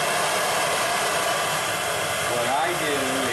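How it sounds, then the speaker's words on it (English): A turbo torch burns with its valve cracked open, a steady loud roaring hiss close by and unbroken, with a voice briefly under it near the end. "It's a turbo torch."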